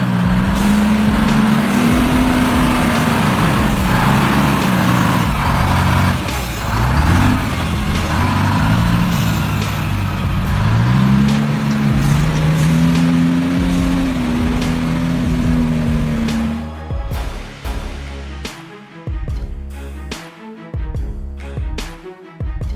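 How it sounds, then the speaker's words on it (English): A 6x6 truck, nearly stuck in a sand pit, straining its engine as the wheels churn, a loud sustained labouring drone with rising and falling revs that drops away near the end into rougher, choppier rumbling. "This 6X, 6 beast is nearly stuck, but its wheels are churning up the sand like a powerful mixer."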